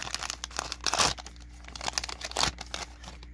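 Foil packs of 2022 Panini Chronicles Baseball value cards being torn open, with close, loud crinkling and ripping of wrapper in several bursts, heaviest around the middle and near the end.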